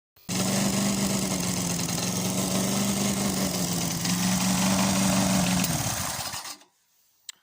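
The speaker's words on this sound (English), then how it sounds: "that's the lawnmower" A small engine runs steadily at a constant idle-like drone for about six seconds, then cuts off abruptly, leaving near silence and a brief click.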